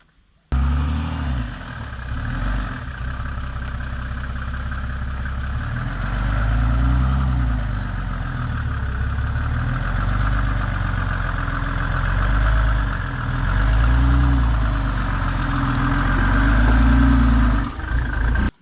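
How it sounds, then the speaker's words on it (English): A 4x4 converted van's engine, fitted with a GT35 turbo, idles steadily and close by with a deep, even rumble and slight swells, and no one speaks. "So yeah, this is the engine."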